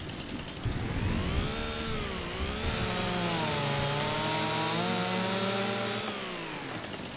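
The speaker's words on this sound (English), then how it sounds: "I keep trying to activate the chainsaw like I did in 22." In the Farming Simulator 25 video game, a chainsaw cuts trees with a loud, sustained engine whine that rises and falls in pitch as it bites into the wood over several seconds.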